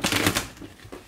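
Tarot deck being shuffled, a quick close burst of crisp riffling card flicks that fades, then one final soft snap.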